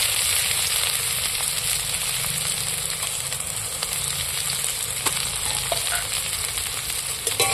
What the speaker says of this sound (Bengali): এবার আমি কাটা পেঁয়াজগুলো তুলে দিচ্ছি তেলের মধ্যে